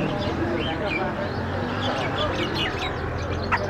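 Small birds chirp and twitter at a bird bazaar in Kandahar, Afghanistan, with scattered calls over busy market background noise and people talking nearby.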